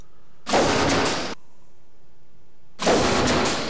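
In the video game Colossal Kaiju Combat, the belly cannon fires two loud, roaring blasts, each lasting under a second, separated by a short silent gap, with no voices.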